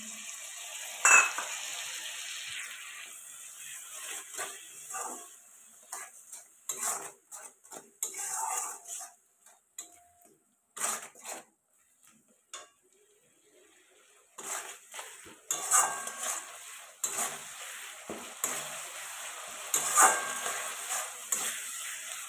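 Spices and cumin powder with a splash of water frying in a pan for a Bengali egg curry with taro and potato, with intermittent sizzling and clattering stirs and scrapes, pausing in between; a voice speaks briefly.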